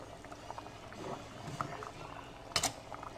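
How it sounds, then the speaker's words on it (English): Low bubbling and rumbling of water boiling in a pot before rice goes in, close by, with a brief clatter near the end. "All right, we're boiling."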